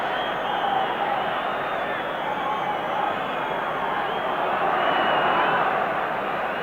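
A 50,000-strong football stadium crowd at the 1990 World Cup qualifier between Ireland and Spain keeps up a steady, dense roar of cheering and noise throughout, broad and continuous without letting up.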